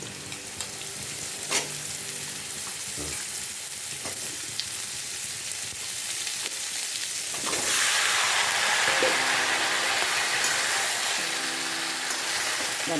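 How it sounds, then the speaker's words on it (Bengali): Chopped bottle gourd tipped into a pan of frying potatoes, a steady hiss and sizzle of hot oil that surges louder and brighter midway as the gourd goes in, with faint stirring clinks, no voices. "মোটামুটি আলুটা ভাজা হয়ে গেছে, এবারে আমি লাউগুলো দিয়ে দেবো।"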